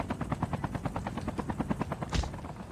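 Helicopter in the mobile shooter game Call of Duty Mobile, a steady rapid rotor chop thumping throughout, loud and close, with a brief burst of noise near the end.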